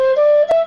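A bansuri flute blown mildly produces a soft, breathy held tone with a small pitch slide and a brief puff of air noise near the end, close and clear without speech.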